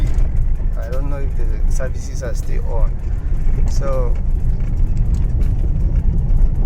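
Mild road traffic from churchgoers on a Sunday in Festac Town, Lagos: a steady low rumble of passing cars close by, with a voice talking over it at times.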